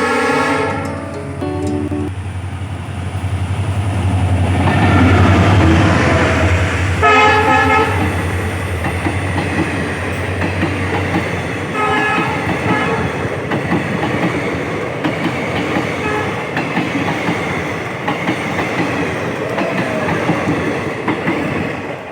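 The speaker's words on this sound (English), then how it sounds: "We are seeing one of the trains passing by." A train passes Nandi railway station in the Nandi Hills, sounding its horn in long sustained blasts early on, then rolling on with steady loud clatter of wheels and cars for the rest of the stretch, with no talk.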